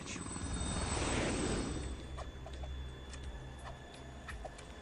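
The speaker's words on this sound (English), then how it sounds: "The helicopter going backwards then" Helicopter in the video game Metal Gear Solid 2, a steady rotor drone that swells loud early then eases back, with faint ticking game sounds over it.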